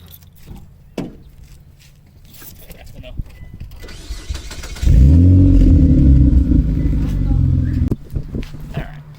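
A Nismo car's engine cranks and catches after some quiet handling noises, then settles into a loud, steady idle that runs for a few seconds before easing off.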